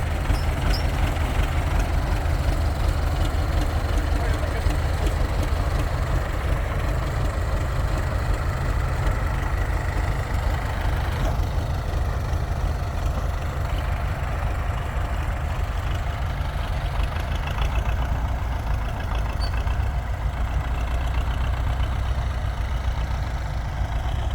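Two coupled MTZ-80 tractors run together, their diesel engines giving a steady, loud low-frequency idle and throb with a knocking rumble. It holds at a constant level throughout, with no talk.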